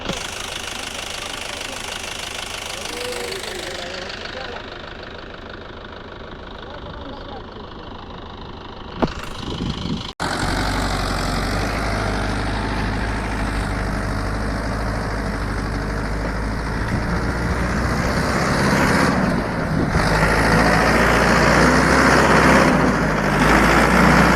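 A Mahindra 585 tractor hauling a 14-foot trolley loaded with potatoes knocks and chugs close by, its engine note quieter at first, then growing louder and heavier after a sharp clunk partway through; a voice speaks over it.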